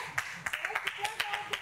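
Sharp, irregular hand claps, about a dozen in quick succession, close by, with voices talking underneath.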